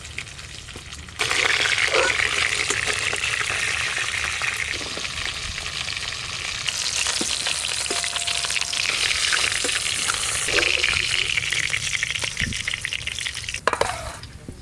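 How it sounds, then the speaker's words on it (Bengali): Pieces of a large rupchanda fish fry in hot oil, giving a loud, steady sizzle that swells and eases as they are stirred, with a few clattering knocks toward the end. "দেখতে দেখতে এই মাছগুলো ভালো করে ভাজা হয়ে গেল"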